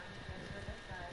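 Horse hooves clop in a quick rhythmic gallop in the Red Dead Redemption video game, a steady muffled beat running through the brief clip under a faint background wash.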